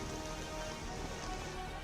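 Heavy, continuous rain falls in Jammu, a steady dense hiss of drops hitting surfaces with no breaks or voices, moderately loud throughout.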